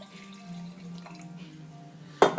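A Paso Robles, California red wine blend is poured into a glass with soft, faint liquid trickles and drips, ending in a sharper splash or clink near the end.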